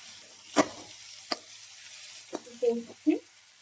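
Potatoes with spices, ginger and garlic cooking in a pan, heard as a few sharp clatters of stirring followed by short bursts of sizzle, moderately close with quiet gaps between.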